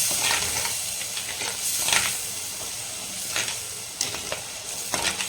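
Tomatoes sauté in oil in a clay pot for a village-style Sankara fish curry, a steady close sizzle with intermittent scraping strokes of a steel ladle stirring through the pan.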